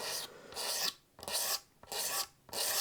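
Razor blade scraping down binding along the wood grain on a Telecaster-style guitar body: four loud, close rasping strokes, each about half a second, separated by brief pauses.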